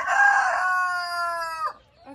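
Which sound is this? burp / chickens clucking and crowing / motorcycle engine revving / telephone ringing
chickens clucking and crowing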